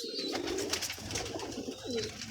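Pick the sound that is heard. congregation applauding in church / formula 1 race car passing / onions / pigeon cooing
pigeon cooing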